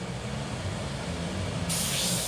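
An airbrush gun sprays paint in a steady, close hiss of air that brightens and strengthens partway through, with no talking.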